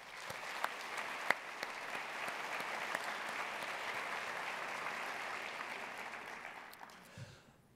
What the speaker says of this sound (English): let's give the project a round of applause